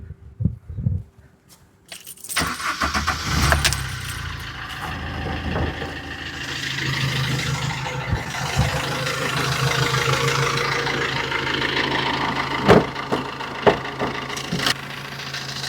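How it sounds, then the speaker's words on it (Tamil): A 2010 Maruti Ritz car engine turns over and settles into a steady, rumbling idle, with occasional clanks and knocks over the continuous drone. "இன்ஜின் இப்போ ஸ்டாப் பண்ணி காட்டுற பாருங்க"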